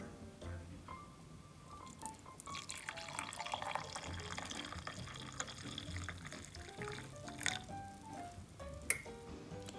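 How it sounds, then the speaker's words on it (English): Brewed dandelion root coffee is poured into a cup: a faint, continuous liquid trickle with small splashing and dripping sounds, close and quiet throughout. "So our dandelion coffee has been brewed, and we shall pour it into a cup."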